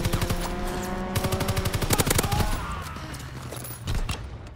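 Rapid machine-gun bursts from a fighter aircraft's strafing run in a World War II-style shooter game rattle loudly, with clustered rhythmic volleys, then fading shots and one last short burst.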